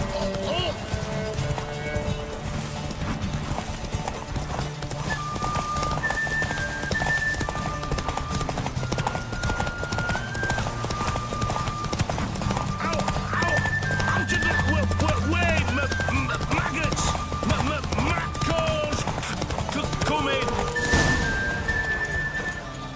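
Horse hooves clip-clopping with occasional neighs in the fantasy game The Witcher 3, set under steady game music and ambience, with a character talking over much of it.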